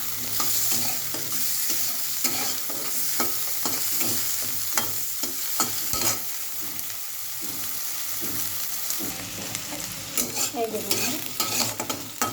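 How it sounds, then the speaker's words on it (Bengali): Potatoes fry in very hot oil while being stirred, giving a steady sizzle broken by repeated scraping stir strokes, close and prominent, with a brief spoken word near the start. "তেলটা প্রচুর গরম হয়ে গেছে, যে কারণে এর ভিতরে আলুটাও দিয়ে দিলাম।"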